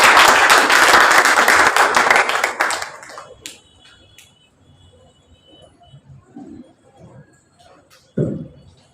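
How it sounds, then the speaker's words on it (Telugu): Audience applause at a Thanksgiving prayer meeting welcomes a sister to the front, loud dense clapping for about three seconds before it fades to a quiet room with scattered small noises and a brief thump near the end. "అందరూ చప్పట్లతో అక్కడ ఆహ్వానిస్తారు."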